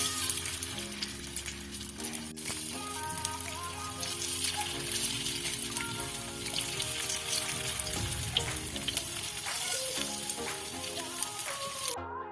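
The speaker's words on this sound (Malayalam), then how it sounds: "എണ്ണ നന്നായി ചൂടായിട്ടുണ്ട്. നമുക്കിതിലേക്ക് ഓരോന്നായി ഇങ്ങനെ വെച്ച് കൊടുക്കാം." Ivy gourd (kovakka) pieces fry in hot oil with a steady, dense sizzle and crackle throughout, while soft music plays underneath.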